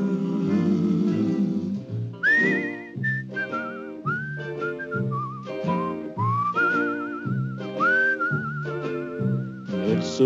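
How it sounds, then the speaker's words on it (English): A whistled melody from the 1962 film Kid Galahad, clear and close, gliding and warbling through a wandering tune over soft musical accompaniment. "It's a whistling tune"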